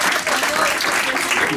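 Steady applause from an audience, dense and continuous clapping throughout, with a voice faintly audible beneath it.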